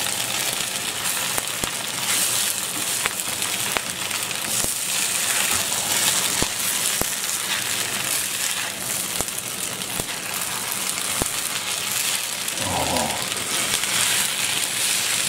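Leftover sweet and sour chow mein stirred and fried in a pan, giving a steady, loud sizzle with scattered scraping and clinking of the utensil against the pan throughout, and a short low rumble near the end.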